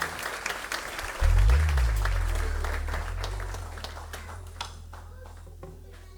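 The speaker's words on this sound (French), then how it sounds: "Et merci les enfants, on peut les applaudir très fort." A church congregation applauds children after a dance at an intergenerational Sunday service, with steady crowd clapping, a loud low thump near the start, and the applause fading gradually.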